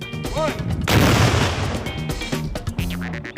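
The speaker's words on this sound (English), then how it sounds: "At the sound of the noonday gun," A noonday gun cannon fires in South Africa, one loud booming blast that rolls into a broad rumbling tail, with someone talking just before and after it.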